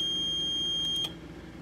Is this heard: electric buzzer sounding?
yes